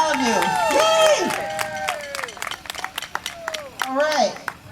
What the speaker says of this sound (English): can we get a round of applause for all of you?